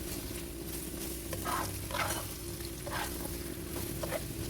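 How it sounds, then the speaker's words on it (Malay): Sausages and carrots fry in a pan while being stirred, a steady close sizzle with intermittent scraping and clattering strokes of the utensil. "Terus dikacau-kacau lagi sehingga sosisnya agak garing"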